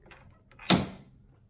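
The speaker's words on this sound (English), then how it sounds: "once you get it, spring will push the door open" A spring pushes a Yamaha YXZ1000R side-by-side door open: one sharp plastic-and-metal thunk with brief rattle, close and loud, preceded by faint handling clicks.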